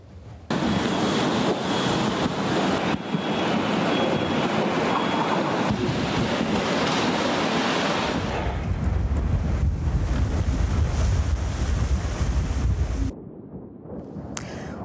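Hurricane-force wind gusts strong enough to uproot trees roar through Moscow in a loud, continuous rush with heavy microphone buffeting, deepening into a low rumble midway before briefly cutting out near the end.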